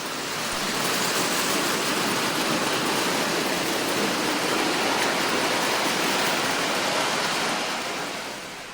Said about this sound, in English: Up to 11 trains can be on the move at once, a splendid spectacle in gleaming tin plate.